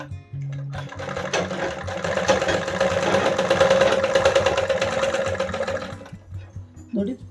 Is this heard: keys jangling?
no